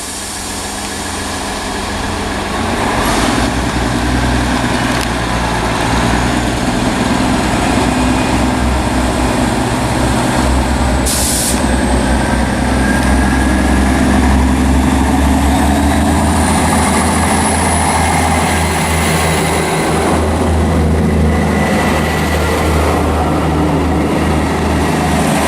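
A ScotRail Class 158 diesel passenger train rumbles steadily and loudly departing Linlithgow station, its low throb building and then holding as it pulls away, with a rising whine above.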